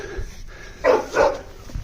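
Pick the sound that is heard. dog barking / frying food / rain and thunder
dog barking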